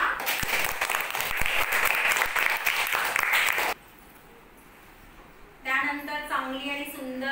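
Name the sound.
classroom applause for a prize winner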